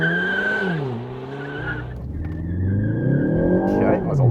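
A Ford Focus ST launches off the line with wheel slip and squealing tires, the engine note climbing through the gears up close, with a voice talking over it.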